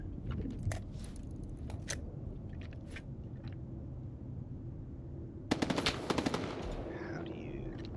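Sniper rifle fire in the S.T.A.L.K.E.R. 2 video game: a few sharp isolated shots early on, then a dense burst of loud gunfire near the end over a low rumbling background.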